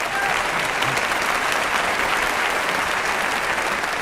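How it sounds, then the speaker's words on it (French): Audience applauding at a French-language motivational talk in Québec, a steady dense wash of clapping from a large crowd, even and sustained throughout with no speech over it. "Je pense que les applaudissements, ils vont pas pour moi surtout"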